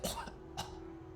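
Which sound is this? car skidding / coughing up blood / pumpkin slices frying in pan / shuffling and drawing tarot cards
coughing up blood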